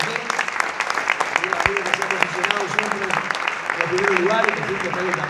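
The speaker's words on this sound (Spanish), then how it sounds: "Muy bien, el aplauso para todos." An audience at the Premios Romeo Gavioli 2019 awards ceremony in Montevideo's Teatro de Verano applauds steadily and densely, a loud sustained wash of clapping with voices murmuring underneath throughout.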